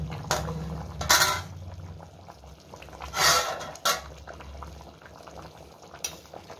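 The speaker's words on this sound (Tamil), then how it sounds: "நல்லா குழம்பு கொதிக்குது" A pot of home-style chicken kurma curry bubbles on the stove in a soft, steady simmer, with a few louder bursts of bubbling and clattering pot noise, close by and with no one talking.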